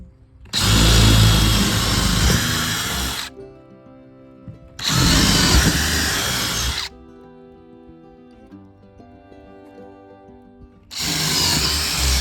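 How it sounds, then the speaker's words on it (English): A jigsaw cutting a window opening in a replica Model T truck built from scrap, three loud buzzing bursts of a few seconds each separated by quieter pauses with faint background hum, close up. "Yeah, I did a little jigsaw action."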